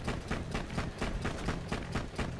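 Rapid, evenly spaced bursts of gunfire from a gun in Borderlands 2, loud and close, repeating steadily without pause for the whole stretch.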